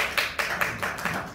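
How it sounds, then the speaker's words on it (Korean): Audience clapping at a unification seminar, heard as five or six separated bursts of claps fading in and out over a brief stretch, fairly close with no talking over it. "박수 한번 치십시오."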